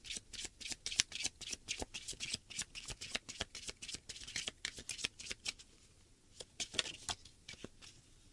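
Oracle cards shuffled by hand for a tarot love reading, a close, quiet run of rapid riffling bursts and soft slaps in steady rhythm with a short pause near the end.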